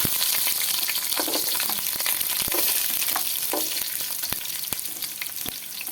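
Shallots fry in hot oil for a murrel fish curry, a steady loud sizzle with sharp spatter pops and occasional stirring scrapes through the whole stretch, no voices.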